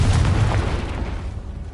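Confringo explosion spell in a Harry Potter video game, a single loud booming blast with a heavy low rumble that decays over about a second.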